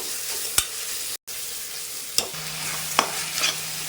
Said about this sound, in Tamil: உப்பு போட்டு நல்லா கிளறிக்கலாம்.